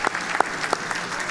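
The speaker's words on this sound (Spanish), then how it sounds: "Denle el aplauso fuerte, fuerte al Señor en esta mañana" Congregation clapping loudly in a church service, a dense continuous applause with a few sharper claps standing out.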